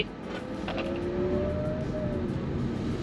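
A BYD Dolphin Standard Range electric car, 95 horsepower, pulls away from a standstill in normal mode, its motor giving a thin rising whine over steady road and cabin noise, with no talk.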